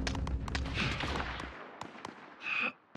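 Video game gunfire in a gritty combat shooter: a dense burst of booming shots and rumbling impacts, then sparser sharp cracks, ending in a short bright metallic burst.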